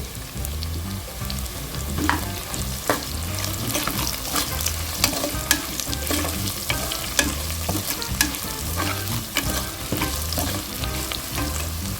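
Steady sizzling of onions frying in a pan, with repeated scraping and clinking as a spoon stirs them, no voices.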